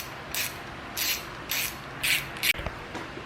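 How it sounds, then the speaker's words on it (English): A ratchet tightens bolts on wing tensioners fitted to a Subaru WRX. Several quick bursts of close, dry clicking come in an uneven rhythm with short pauses between them, and no one talks. "let me tighten it quick so I can let go of it for a minute"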